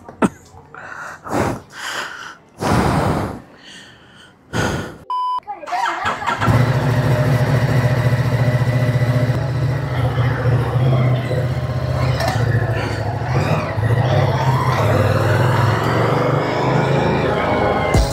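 A motorcycle being ridden on a road on a trial run starts with a few sharp bursts and pauses, then settles into a loud, steady engine drone. Wind rushes over it, and a voice speaks at the start.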